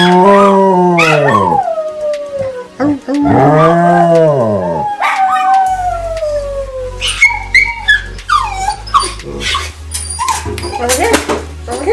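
Old English Sheepdogs howl indoors, with long rising and falling wails that break into yips and whimpers, loud and close. A person talks over the later part.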